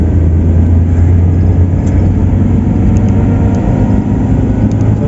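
A car engine climbing uphill in third gear on a non-toll road toward Tretes, heard from inside the vehicle as a steady, loud low rumble with a continuous droning hum and no talking.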